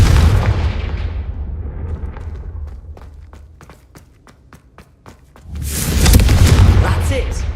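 A Confringo explosion spell going off in Hogwarts Legacy: a loud, deep blast that swells near the end after a quieter stretch of scattered sharp thumps, with no speech over it.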